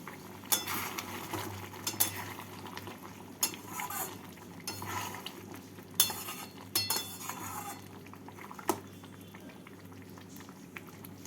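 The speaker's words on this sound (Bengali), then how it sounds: "পনিরগুলোকে দিয়ে নাড়াচাড়া করে আবারও এক মিনিট ফুটিয়ে নেব" Vegetarian matar paneer curry with fried paneer pieces simmers in a pot, a soft steady bubbling broken by sharp, close clinks of a spoon against the pan as it is stirred several times.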